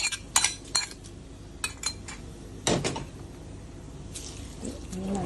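A spoon clinks and scrapes against a pot while butter pal kappa, a tapioca dish, is mixed together with fried onion seasoning. The sharp metallic taps come in scattered bursts, some close and loud, others soft, over a quiet kitchen background.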